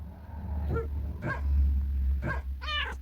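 Dogs in a video game let out several separate barks and yips, spaced unevenly over a low rumbling background.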